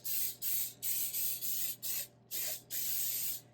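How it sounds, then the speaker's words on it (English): Cooking spray hisses onto a baking dish in a home kitchen, seven or eight short bursts in an uneven rhythm, close and clear with nothing else heard. "one thing I did forget to do was to spray"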